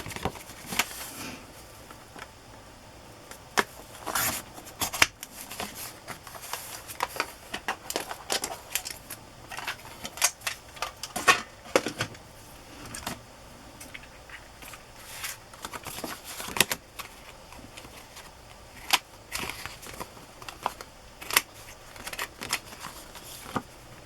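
Scissors snipping through paper scraps while ephemera is made, a long run of quick, close, crisp cuts and rustles in uneven bursts, with no talking.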